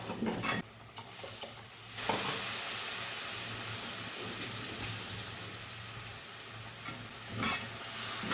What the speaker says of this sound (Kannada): ಇದನ್ನು ಚೆನ್ನಾಗಿ ಕೈ ಆಡಿಸ್ಬೇಕು.